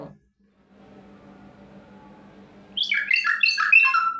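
A pet mynah bird in Bangladesh lets out a loud run of rapid chirps and squawky calls close by after a quiet stretch with a faint low hum.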